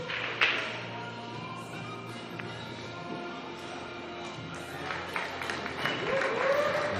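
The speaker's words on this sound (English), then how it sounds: "Getting a round of applause to signify that he did in fact hook him behind the 7." Faint, scattered applause from a distant crowd at a 9-ball pool championship, soft and sustained for several seconds, with quiet murmuring underneath.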